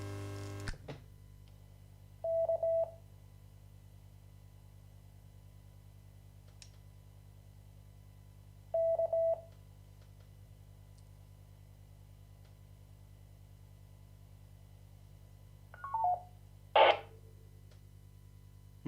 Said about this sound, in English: Okay, the IR repeater responded, as I expected it to do.